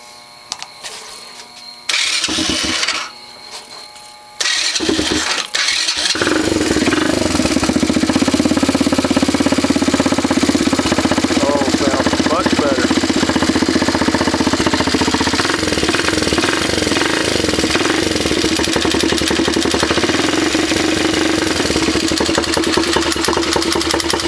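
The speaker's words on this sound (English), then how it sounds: "Low idle, which I think they do that. That's the cam chain." A Chinese 110cc ATV engine starts and then settles into a steady low idle with a continuous metallic cam chain rattle, loud and close, running alone for most of the clip.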